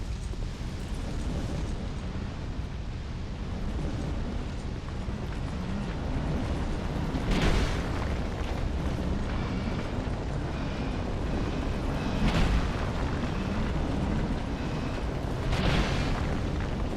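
Explosions in the survival game Abiotic Factor, a continuous roaring rumble broken by three louder bursts spread several seconds apart, with no voices.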